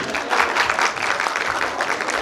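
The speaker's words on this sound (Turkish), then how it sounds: "Bir alkış daha istiyoruz." Applause from an audience at a kindergarten year-end show, a dense steady wash of clapping lasting a couple of seconds with no pauses.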